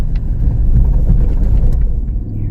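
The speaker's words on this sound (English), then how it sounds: "I think he's afraid of the motor, the sound of it." A 2025 Toyota 4Runner TRD Pro engine rumbles steadily on a beach at Padre Island, a loud, constant low drone with no speech.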